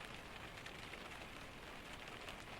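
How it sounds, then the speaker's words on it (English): Steady rain falling, a constant soft hiss of drops on surfaces, faint and even throughout with no voices. "beneath the constant, low voice of the rain"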